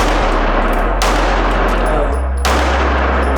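Loud, sharp shots from a SIG pistol fitted with a compensator at an indoor range, three close blasts about a second apart, each with a short ringing tail.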